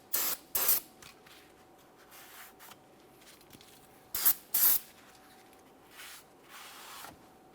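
Cleaner sprays onto the friction material of rear parking brake shoes on a 2008-2017 Mitsubishi Lancer, heard as two pairs of short, sharp hissing bursts with quiet gaps between them.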